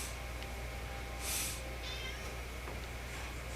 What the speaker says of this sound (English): And now my cat's going crazy.